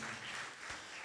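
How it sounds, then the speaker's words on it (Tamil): Congregation clapping at a Catholic parish feast Mass for the St. Joseph chariot festival in Porur, a brief, steady wash of applause heard from a distance. "இதோடு கடைசியில் கைத்தட்டினா போதும்."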